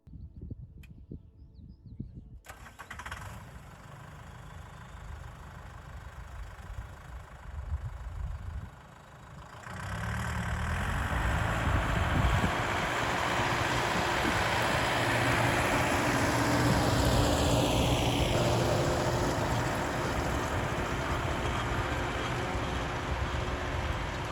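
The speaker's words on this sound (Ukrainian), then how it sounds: "навіть і цілину цей тракторець бере, ну і плужок" A DTZ 5504NK tractor pulls a plough through peat, its engine droning loud and steady. The engine note rises to a fuller, heavier roar partway through as it works under load.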